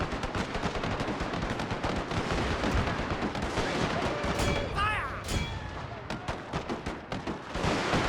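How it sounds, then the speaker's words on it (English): A Gatling gun fires at a fort gate during a battle in a Total War game set in the Anglo-Zulu War, with dense, continuous gunfire and artillery-like booms running loudly throughout, and brief whistling sounds partway through. "I want the Gatling gun firing at the gate again as they're retreating"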